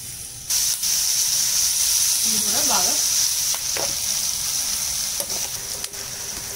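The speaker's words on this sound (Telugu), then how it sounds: "ఇదే ఆయిల్ లో మనం ఉల్లిపాయ పచ్చడి వేసేయొచ్చు" Onions fry in hot oil with a loud, continuous sizzle and hiss that runs almost the whole time, plus a brief scrape of stirring partway through.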